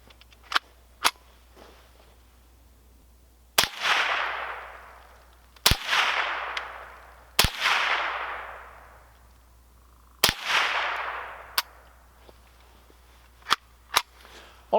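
Ruger 10/22 rifle firing at a small target 10 yards away: a handful of sharp, loud single cracks spaced a second or two apart, several trailing into a long echoing decay, with fainter clicks between shots.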